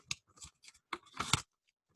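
A paper envelope being opened: a brief flurry of tearing and crinkling rustles, close and fairly quiet, ending in silence.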